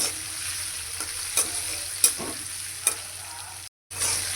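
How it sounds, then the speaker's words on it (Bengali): Ginger and whole spices fry in oil for mung dal, a close crackling sizzle with a few sharp spatula scrapes, then a brief dropout before the hiss resumes; no talking. "আদাটা একটু ভাজা ভাজা হয়ে গেছে"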